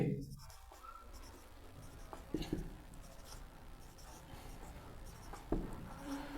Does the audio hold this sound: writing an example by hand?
yes